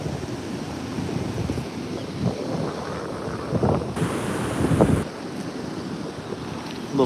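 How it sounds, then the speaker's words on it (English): Surf rolls and crashes continuously nearby on a Texas beach, with a roaring wash of water and wind buffeting the microphone. "The waves are rolling in with some serious rip current, rip tides, undertows."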